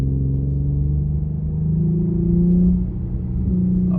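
An Infiniti Q50 accelerates in second gear, a close, steady engine drone that rises in pitch and swells, then eases off, heard alone from inside the car.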